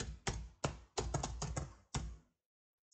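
Typing on a computer keyboard while searching an app store for Instagram on a PC, heard as a close series of key taps in several bursts, then a pause and two faint final clicks.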